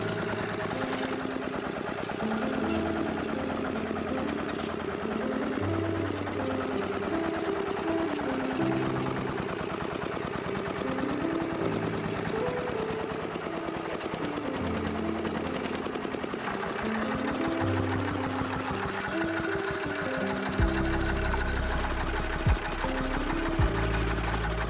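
An old Soviet DT-14 diesel tractor engine, revived after twenty years abandoned in the woods, runs steadily with a loud, continuous knocking chug and rhythmic mechanical clatter. It is heard alone, with no talking.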